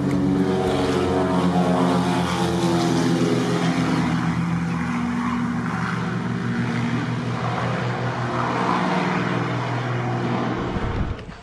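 A Winair Twin Otter propeller plane flying between St Maarten and Saba drones loud and steady from the cabin, a constant engine and propeller hum that fades slightly at the very end.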